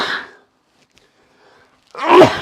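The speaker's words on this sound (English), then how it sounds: "I gotta sneeze." A person with a cold sneezes close to the microphone: a breathy intake, a pause of near silence, then a sharp, loud sneeze burst.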